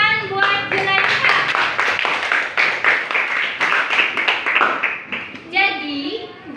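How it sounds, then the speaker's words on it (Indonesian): A classroom of students clapping their hands, a dense burst of claps that fills the stretch, with a teacher's voice briefly heard at the start and end. "Oke, tepuk tangan buat Zulaiha."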